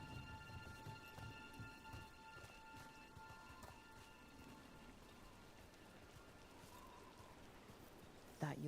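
Steady rain in the video game Dragon Age: The Veilguard, a soft, continuous hiss and patter at low volume with faint rumbling beneath, some quiet tonal ambience, and a short louder knock right at the end.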